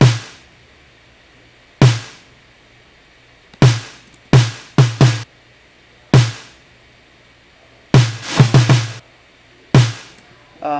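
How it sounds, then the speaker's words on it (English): A recorded snare drum, picked up by a Neumann, an old Russian Octava and an SM57, plays a sparse pattern of sharp hits, single strikes and quick flams, each ending in a rattling snare-wire buzz. It has a dark tone and plays alone. "So you can hear the snares rattling there."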